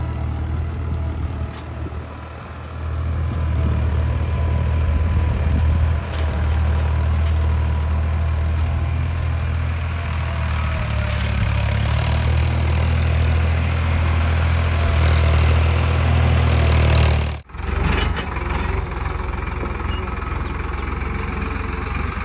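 A Farmtrac tractor pulls a plough through farm soil, its engine producing a loud, steady, low, heavy rumble throughout with a brief dip near the end.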